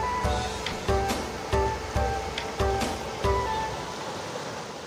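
Water rushes steadily near Sinti waterfall at Shaktikhor, a loud, close, continuous wash of sound that surges in rhythmic pulses about every second or so, with no voices.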